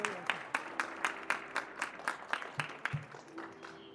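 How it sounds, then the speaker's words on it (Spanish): Sparse applause from a small audience welcoming a speaker at a conversatorio in Oruro, individual claps ringing out in a loose, fairly regular rhythm, near and distinct. "La recibimos con este fuerte aplauso, por favor."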